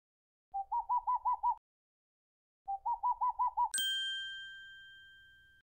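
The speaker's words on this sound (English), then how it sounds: "That's a boreal owl in the Koyukon language." Two short bursts of rapid, hollow hooting notes from a boreal owl, each a quick trill of about six beats, followed by a bright ringing chime that fades slowly, from a children's cartoon game.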